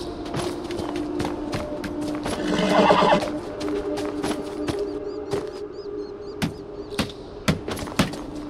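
A horse in the video game Beyond Two Souls gives a loud, wavering whinny midway, set against a steady tonal hum and scattered sharp hoof clops that grow more distinct toward the end.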